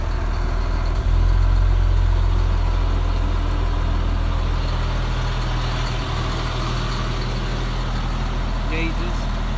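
A 2006 Ford F650 custom stretch conversion dually truck with an Allison transmission idles with a steady, deep, close-up rumble that holds throughout, and a voice talks over it.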